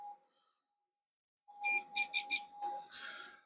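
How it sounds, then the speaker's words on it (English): A multimeter beeps during a continuity test on a console drive installation, sounding a few short, faint, close beeps after a brief silence. "I don't know if you'll hear the beep through the mic"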